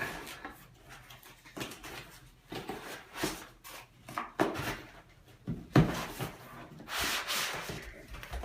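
Quiet rustling and scraping of cardboard and packaging as a new laptop's box is handled and pulled open, in irregular bursts up close.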